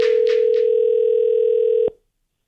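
A steady telephone tone sounds loud and continuous while calling a mobile phone, cut off abruptly with a click, and a few short chirping blips ring over its start.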